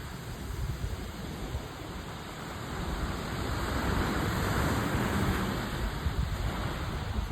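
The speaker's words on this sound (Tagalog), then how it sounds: "maalon" Continuous rushing surf of choppy sea waves and wind noise, rough and steady, swelling slightly midway, with no voices.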